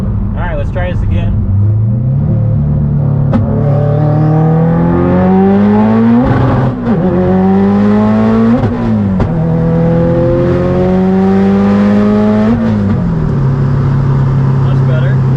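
A Subaru STI accelerates hard through several gears, each rev rising in pitch and then dropping at the shift. The loud engine and turbo whine are heard from inside the car, with talk under the noise.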